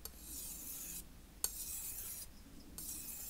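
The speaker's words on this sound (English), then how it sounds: "there's less and less noise and less grit you can hear with each pass." A Wusthof Santoku knife is drawn across a Japanese whetstone in a few soft, gritty rasping strokes with short pauses between them, quiet and close.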